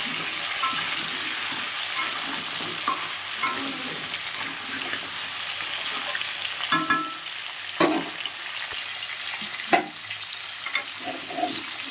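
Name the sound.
potato and pointed gourd frying in the wok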